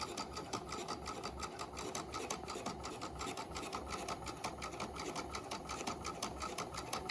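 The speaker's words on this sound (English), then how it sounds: "I'm going to back stitch, and then I'm going to do a straight stitch next to the folded edge" A sewing machine runs steadily, straight stitching a flat felled seam through all layers of folded fabric, a continuous fast mechanical whir with rhythmic needle clatter, close and unbroken throughout.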